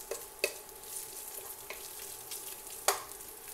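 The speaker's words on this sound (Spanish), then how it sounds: "El tocino yo lo voy a dorar un poquito nada más." Bacon browning in a pan gives a steady, quiet sizzle, with a few sharp utensil clicks and scrapes spaced through it and no voices.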